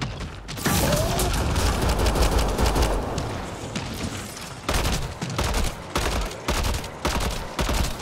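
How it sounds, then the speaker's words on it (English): Heavy exchanges of gunfire in the sci-fi shooter game Mass Effect: Andromeda, on the planet Havarl, roar almost continuously, with sustained automatic bursts broken by short pauses and renewed volleys. "There's people shooting me, aren't they?"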